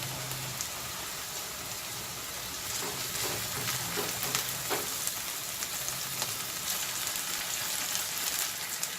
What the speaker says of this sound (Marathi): साधारण अर्धा मिनिट कांदा परतून झाल्यानंतर मशरूम, ब्रोकोली घालून घेणार आहोत